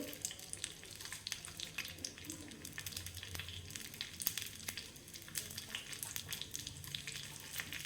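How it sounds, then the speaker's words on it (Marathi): Garlic cloves frying in hot tempering oil for dal khichdi, a steady soft sizzle with faint crackles running throughout, moderately quiet and close, with no talking. "त्यातला मी थोडा आधी फोडणीला घातला आणि आता पुन्हा थोडा घालते"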